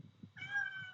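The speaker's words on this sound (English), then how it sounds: "You can hear the cat in the background" A single drawn-out cat meow, fairly loud and close, rising after a brief quiet moment over a low background rumble.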